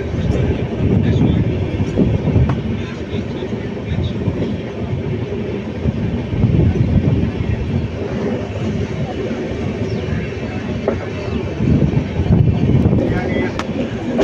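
A passenger train on the Erode to Bangalore line pulls into Dharmapuri station, heard from on board as a loud, continuous rumbling roar with rattling throughout.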